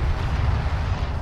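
Artillery shot exploding in the Homeworld: Deserts of Kharak video game, a loud low rumbling blast that rolls on briefly without talk.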